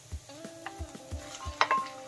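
Minced meat fries in a pan with softened onion and finely chopped garlic for a rice-free fresh-cabbage sarma. A steady soft sizzle runs under regular stirring thumps and scrapes, and a sharp utensil clink near the end, with no talk.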